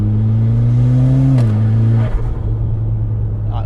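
Mitsubishi Lancer Evo X MR with a rebuilt SST gearbox accelerating hard in third gear onto a motorway, a loud droning engine note rising in pitch, then a sudden shift and a lower rumbling pull.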